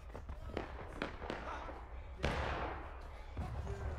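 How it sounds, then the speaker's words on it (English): Artillery fire in War of Rights, a Civil War battle game: a deep cannon blast booms and decays over a second amid scattered sharper musket cracks and thumps, with voices talking faintly in the background. "Artillery."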